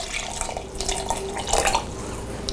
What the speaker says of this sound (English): Then we're going to pour a little bit of the liquid in here.